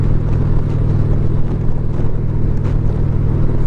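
A 2021 Indian Challenger Limited motorcycle's engine while riding, a loud, steady low rumble with wind noise, close and continuous.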